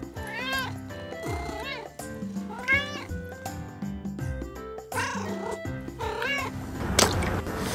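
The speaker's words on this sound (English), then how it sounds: "Kitty cat." A cat meowing several times in drawn-out, wavering calls over soft background music, each meow loud and close with short pauses between.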